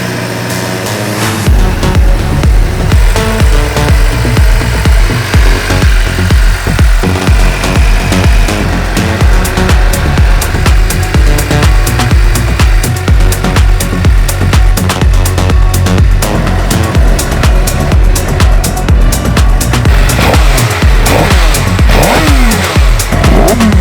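A Suzuki GSX-R 600 motorcycle fires up and warms, its loud, close engine idling with a rapid firing pulse and occasional revs.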